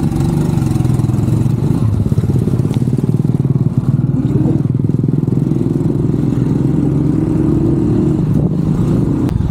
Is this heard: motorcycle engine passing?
yes